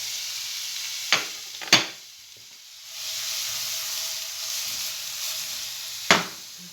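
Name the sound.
onion and garlic poaching in a pan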